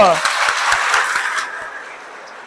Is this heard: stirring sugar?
no